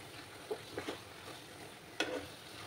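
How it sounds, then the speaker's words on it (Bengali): Taro leaves (kachu shak) fry faintly in a pan as a spoon stirs them, giving a quiet continuous sizzle broken by a few soft scrapes and one sharper scrape later on. "চুলার আঁচটাকে বাড়িয়ে আমি এভাবে নাড়াচাড়া করে যাব।"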